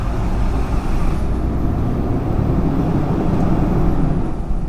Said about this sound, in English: it's just really loud for some reason, is this truck